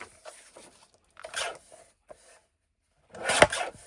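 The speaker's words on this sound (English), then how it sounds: "I'm going to cut it just past the edge of this one" Scissors cutting 32 pound printer paper for a craft portfolio, several short dry rasping snips in irregular bursts separated by silence, close and clear with no voice.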